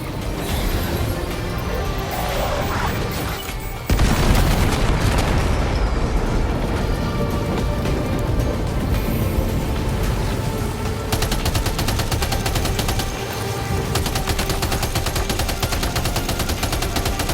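Sustained gunfire and booming explosions in the video game Death Stranding 2, loud and dense throughout with a sharp jump in intensity partway through, rattling bursts layered over rumbling blasts.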